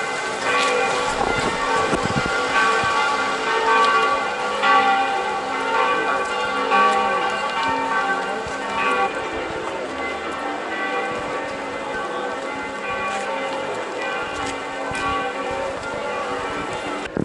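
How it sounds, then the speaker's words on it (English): Church bells ring continuously and loudly in the town square of Cesky Krumlov, with layered, overlapping tones filling the open outdoor space and steady ambient noise beneath. "You can hear the bells ringing."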